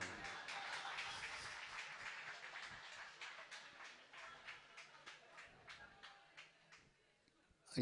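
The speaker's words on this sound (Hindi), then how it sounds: "ताली बजाने की क्या आवश्यकता है।" Fast, dense clapping from an audience at a Jain religious discourse in Nemawar, India, fills most of the clip, then thins out into a few scattered claps near the end.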